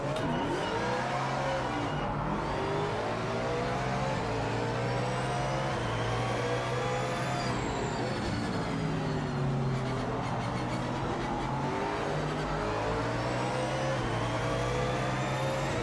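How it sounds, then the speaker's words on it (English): Race car engine in a sim racing game accelerates hard and continuously, its pitch climbing and dropping through gear changes, loud and steady with no talk. "watch how much faster this car accelerates"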